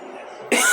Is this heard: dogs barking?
no